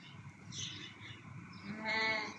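A sheep lets out a clear bleat near the end after some quieter, muffled animal sounds nearby.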